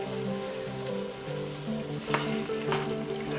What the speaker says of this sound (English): And we'll just get that all stirred up